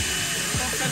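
A powerful fan blasting air at people's faces in a fan zone at the Barcelona Formula 1 Grand Prix, a loud continuous roaring rush of wind with a voice briefly audible underneath.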